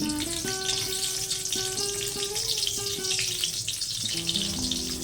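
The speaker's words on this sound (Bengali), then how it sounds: "যতক্ষণ না মশলা থেকে সুন্দর মিষ্টি গন্ধ ভেসে আসছে ততক্ষণ মশলাটা ভেজে যাব" Whole garam masala of cinnamon, cardamom and cloves, broken in two, frying in hot mustard oil, giving a steady close sizzle throughout, with faint tonal clinks over the hiss.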